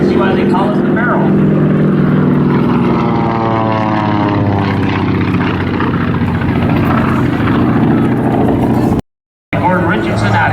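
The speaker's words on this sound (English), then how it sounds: "that is the F-3F-2 coming right down the shoreline again" A Grumman F3F-2 vintage biplane roars past along the shoreline at an airshow, its radial engine and propeller loud and rising then fading, with an announcer talking over it.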